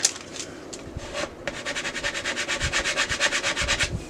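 Quick back-and-forth rubbing as Cricut transfer tape is burnished onto a craft blank, close rhythmic scraping strokes that start sparse and settle into a fast steady series, with no talking.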